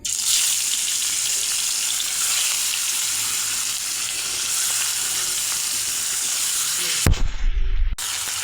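Fish rubbed with salt and turmeric frying in pre-heated oil makes a loud, continuous sizzle, broken near the end by a sudden hissing surge and brief clatter before the frying resumes.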